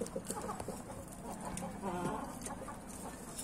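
A black hen clucks on a backyard poultry farm, soft irregular clucks and low calls at moderate distance over a noisy outdoor background.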